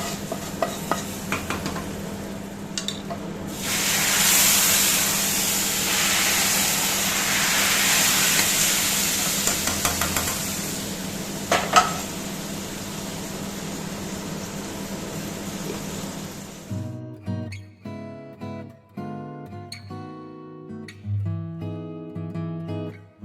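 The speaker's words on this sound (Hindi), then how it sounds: "बस यहाँ पे तड़का भी मैंने लगा दिया है" Tempering spices for kadhi sizzle in hot oil, a loud, steady hiss lasting over fifteen seconds. It gives way to quieter scattered clinks and scrapes of a utensil stirring in a pot.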